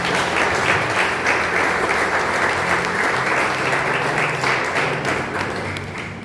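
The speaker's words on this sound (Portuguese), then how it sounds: "Dá uma salva de palmas para o Senhor nessa noite." A church congregation applauds during an evening worship service, a dense, loud, sustained burst of clapping that fades slightly toward the end.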